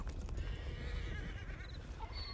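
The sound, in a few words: horses in video game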